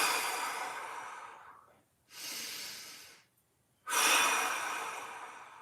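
Three long, deep breaths during a low-back mobility stretch, each a broad airy exhale that tapers off, separated by short silent pauses; close and fairly soft, with no talking.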